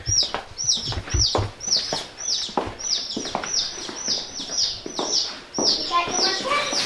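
Black giant baby chicks peep and cluck in a brooder, a busy chorus of high repeated chirps close by, with people talking over them.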